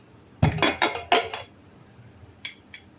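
A pressure cooker lid is opened after a couple of whistles, a cluster of loud metallic clanks and scrapes at close range, then two lighter metal taps after a short pause.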